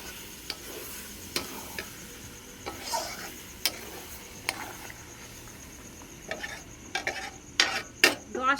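Marinated chicken is stirred through spices in a pan, making a quiet sizzle broken by sharp scraping clacks of a spoon against metal that grow denser and louder toward the end, with no voices.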